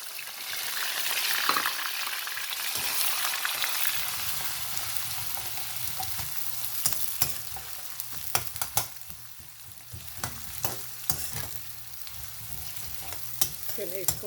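Roughly chopped onion sautéing in a pan, a steady broadband sizzle throughout with occasional sharper crackles and spoon stirring clicks, close and fairly loud, no talking.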